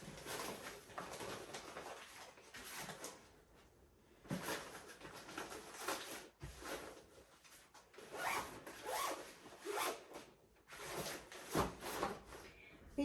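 Nursing bras and undergarments packed into pouches for a hospital bag, with soft rustling, rubbing and zipper sounds in repeated bursts, quiet and close, and faint birdsong in the background.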